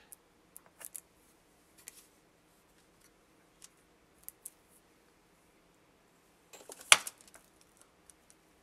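Sculpting clay being cut while a horse's hair is shaped: scattered faint clicks and snips, then one louder, sharper cut near the end, followed by a few small ticks in a quiet room.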